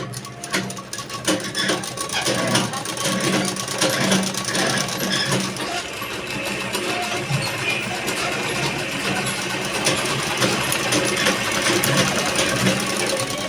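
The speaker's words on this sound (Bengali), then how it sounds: "এক ভাঁজে সেলাই করে নিচ্ছি।" A sewing machine stitches a single folded edge along the long side of fabric for a border with short sleeves, a continuous close mechanical whir with a fast needle rhythm.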